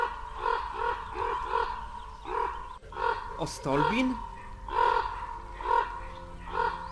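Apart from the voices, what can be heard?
raven cawing in video game Broken Ranks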